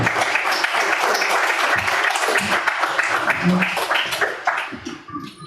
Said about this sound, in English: But Stephen, maybe a round of applause and come up and get your award.